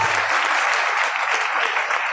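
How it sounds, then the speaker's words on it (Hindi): Sustained, vigorous clapping from a crowd at an event welcoming a guest, even and loud from start to finish with no pauses. "ताली बजाइए, जोरदार ताली।"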